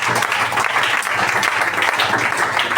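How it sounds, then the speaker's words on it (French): A church congregation breaks into steady, full applause that fills the space evenly from start to finish, with no pauses and no spoken voices over it. "Acclamons le Seigneur"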